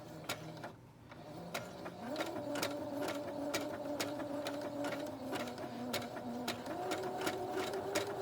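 A sewing machine stitches an appliqué quilt block with a steady, fast mechanical whir and a regular ticking rhythm, close and even throughout, with its motor pitch stepping up partway.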